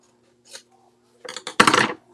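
Close, crisp snips and scrapes of paper card being cut and trimmed for a fun fold card, a brief tick followed by a short cluster of sharp cutting sounds in an otherwise quiet room.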